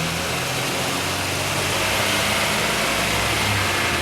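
A race car's engine runs steadily and loudly for four seconds with a continuous drone and no clear pauses, as the car is brought up toward third gear.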